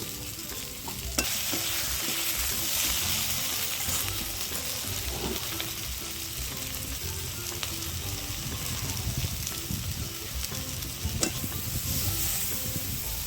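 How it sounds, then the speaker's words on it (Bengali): Hincha greens and potato pieces stir-fry with salt in a pan, giving a steady close sizzle throughout with scraping stirs and small clinks, and no talking. "সামান্য কিছু সময় একটু লাল লাল করে ভেজে নেব ভাজার সময় নুন দিয়ে দেব স্বাদ মতো"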